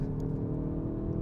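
A Hyundai i30 N hot hatch launches from standstill in first gear, its engine droning steadily and loud with a dense low rumble throughout this brief stretch of hard acceleration.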